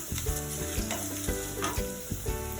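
Curry leaves, green chillies and asafoetida crackle and sizzle in hot oil for a masala idli tempering, with steady frying hiss, sharp pops and stirring scrapes, close and fairly loud with no talk.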